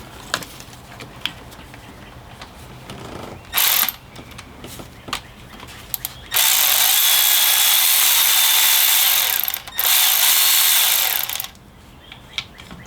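A power tool fitted with an E12 bit loosens a ground bolt on a Chevy Cruze 1.4 engine. It gives a short whirring burst, then a long, loud, steady run of several seconds, with light mechanical taps and clicks around it.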